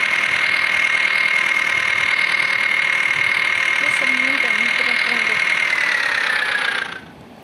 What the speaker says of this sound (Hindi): भाई साहब, इतना मक्खन चल रहा है ना ये ट्रैक्टर